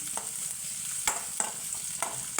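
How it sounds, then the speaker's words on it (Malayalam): Onions fry in hot oil in a pan while being stirred, a steady bright sizzle underneath with a few sharp scraping stirs breaking through, close up and without speech. "ചീനിച്ചട്ടി വെച്ചു, എണ്ണ ചൂടായി, ഉള്ളി ഇട്ടു"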